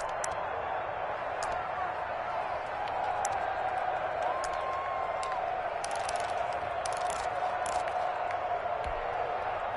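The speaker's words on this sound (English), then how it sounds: "Crowd getting in it a bit already" A stadium crowd at an American football game between the Seahawks and Cardinals roars in a steady, distant wash of cheering and scattered claps, with a faint voice rising over it in places.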